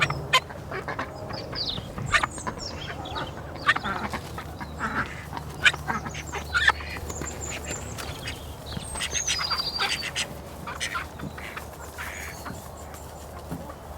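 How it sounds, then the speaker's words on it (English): Small call ducks quacking on a farm, scattered sharp quacks and calls coming near and far at irregular intervals over a quiet outdoor background, with occasional brief bursts louder than the rest. "5 of which are call ducks, little call ducks, so they're only small."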